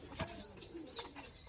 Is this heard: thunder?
no